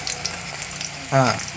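Crackling sizzle of brinjal frying in hot oil, steady and close, with a brief louder tonal clink near the end.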